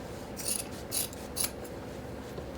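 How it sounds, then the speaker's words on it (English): Scissors snip through plaid flannel fabric in three short, crisp cuts about half a second apart, fairly close and alone over a quiet room. "So let's cut out this centerpiece."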